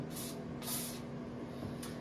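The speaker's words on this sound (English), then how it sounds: "I'm spraying the bottom too." Short hissing bursts of aerosol lubricant sprayed on a toilet seat's fittings, three quick sprays with pauses between, close and fairly quiet over a low steady hum.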